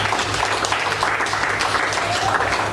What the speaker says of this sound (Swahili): Mpe makofi yako mazuri.